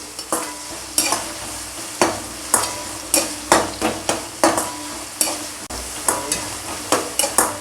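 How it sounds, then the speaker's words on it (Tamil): Onions being sautéed in a pan for a Tamil fish curry, with a continuous sizzle and regular loud scraping spoon strokes about twice a second, close up and without talk. "நல்லா வதக்கி விட்டுக்கலாம் நல்லா வதக்கணும்"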